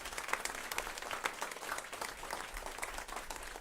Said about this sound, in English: Please give him another round of applause.